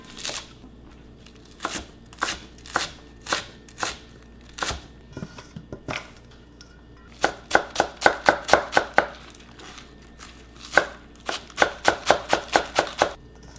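Green onion being chopped for kimchi on a board, with sharp knife strikes coming first in scattered single chops and then in quick rhythmic bursts, close and fairly loud.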